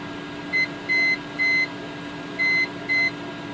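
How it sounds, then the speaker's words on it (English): A home wind turbine's high wind alarm sounds five short, even electronic beeps in a steady pattern, clear over a constant low hum. "It's a high wind alarm."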